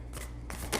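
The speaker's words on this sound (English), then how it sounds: "It's already been pre-shuffled, so I'm just going to shuffle." A deck of oracle cards is shuffled by hand, a quick papery riffle with two sharper bursts of card noise in under a second.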